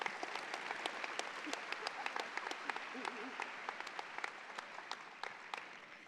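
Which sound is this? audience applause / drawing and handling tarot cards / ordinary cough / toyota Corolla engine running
audience applause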